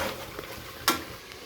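Tomato, onion, fennel, cinnamon and cloves sautéing in a pan for chicken biryani, with a soft sizzle and one sharp scrape of a spoon as they are stirred, close and quiet, no talking.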